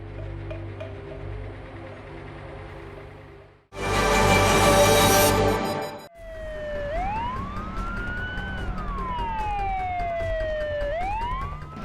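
A fire truck siren wails with rising and falling sweeps over traffic noise, loud and close, following a burst of broadband noise.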